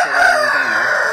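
A one-year-old Metavatam cross rooster with peacock-feather colouring, weighing 2.5 to 3 kg, gives a single loud, close crow that runs the full second.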